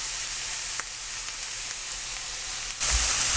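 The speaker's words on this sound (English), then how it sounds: "Onions sauteing, delicious." Red onion and garlic with a pinch of salt and black pepper sauté in olive oil, making a steady, close sizzling hiss. The sizzle swells louder near the end, and no one speaks.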